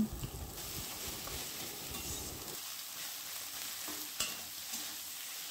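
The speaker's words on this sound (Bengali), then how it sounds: "এবারে সেদ্ধ করা আলুটা খুন্তির সাহায্যে ম্যাশ করে নিতে হবে ভালোভাবে এবং মাছের সঙ্গে মিশিয়ে নিতে হবে" Boiled potato being mashed into fried fish and spices with a spatula for Bengali fish chop, a rough scraping and stirring against the pan over faint sizzling, with one sharp knock near the end.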